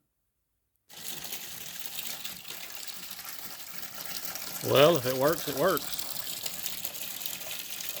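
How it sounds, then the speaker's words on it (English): Water running through an old tractor's engine system, a steady gushing flow that starts abruptly after a second of silence, with someone briefly speaking over it midway. "Keep a little water going through the system."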